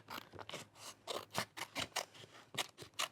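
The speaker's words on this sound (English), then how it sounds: "I am the worst person at cutting with scissors." Scissors snip through vinyl sheet in a quick, irregular series of close, crisp cuts and scrapes, each a short bright burst with brief pauses between.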